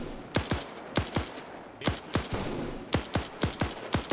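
Bolt-action rifle gunfire in a video game, sharp cracks in loose pairs and clusters, about a dozen shots over a few seconds, fairly close with a faint background bed.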